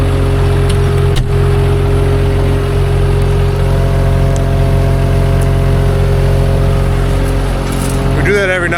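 A tractor engine idles loudly and steadily up close during a cotton harvest, a thick low hum with a constant droning tone throughout.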